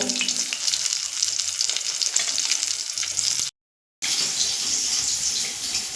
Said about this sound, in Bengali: দেখুন মাছ তো ভাজা হচ্ছে